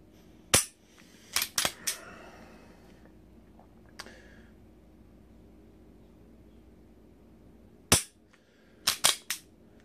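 One-handed pistol dry-fire practice: crisp, sharp trigger clicks close by, single and in quick pairs or triples, separated by quiet pauses over a faint background hiss.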